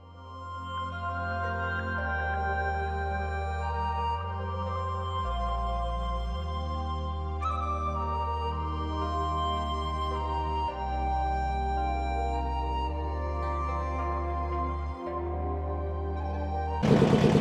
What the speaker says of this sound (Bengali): জানি না এই যে বোটের আওয়াজ, ইঞ্জিনের আওয়াজ কতটা ভালো শোনা যাবে